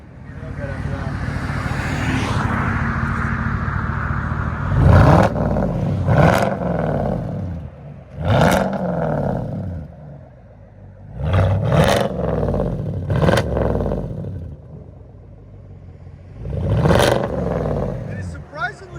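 A 2022 Chevy Silverado RST with a 5.3L V8 and true dual straight-pipe exhaust idles with a deep rumble and is blipped into several sharp, rising revs that fall back each time, recorded up close with voices around it.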